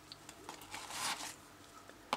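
A zipper on the solid carrying case of a Hawke Endurance Marine 7x42 ED monocular gives brief, faint rasping pulls, one longer stroke in the middle and a sharp snag at the end, with no talking.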